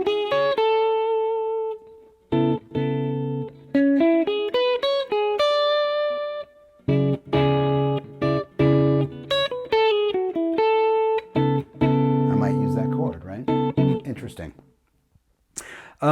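An electric guitar plays a melody in the Phrygian mode, single notes and short phrases ringing out with clear sustain, ending in a quiet tail.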